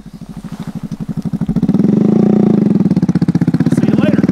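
A motorcycle engine runs close by, its loud, steady pulsing rising as it revs up and then holding at a higher, even throb, with no talk over it.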